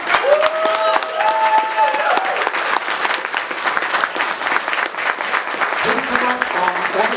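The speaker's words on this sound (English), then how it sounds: "Let's give a round of applause." Loud, sustained audience applause at a convention opening ceremony, dense clapping that fills the whole stretch evenly, with voices and brief cheers mixed in and someone talking over it toward the end.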